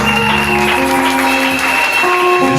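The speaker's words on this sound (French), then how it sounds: "Est-ce que tu peux exagérer avec tes acclamations ce matin?" A church congregation cheers and applauds steadily through a worship service, producing a dense, continuous wash of clapping and voices with sustained musical tones underneath.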